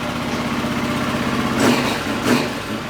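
A Honda Trail 125 engine idling without choke after carburetor pilot circuit cleaning, a steady close putter with two brief swells in revs near the end.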